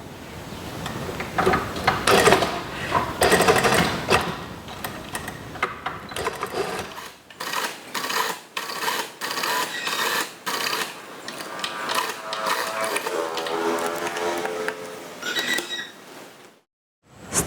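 Sewing machine stitching a child's half-circle gamis in loud, rapid close bursts, the motor whirring and pausing between runs before a brief stop near the end.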